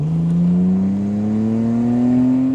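A 1954 International farm truck fitted with a Jaguar XJ6 inline-six engine revs hard, its tone climbing smoothly and steadily as it pulls under load, loud and close throughout with no talk.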